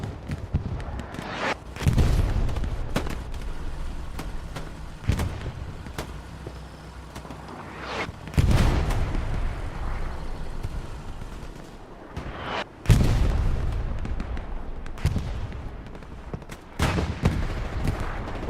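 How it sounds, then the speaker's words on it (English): Rockets fire again and again in a Hell Let Loose match, each heavy launch followed by an explosion, with steady gunfire and battle noise around them. "Lots of rockets being shot at from both teams, trying to get their final few kills"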